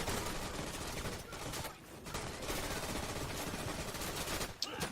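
Sustained machine gun fire in the World War II shooter Day of Infamy, dense rapid bursts rattling nearly nonstop with brief dips, moderately loud amid other battle noise.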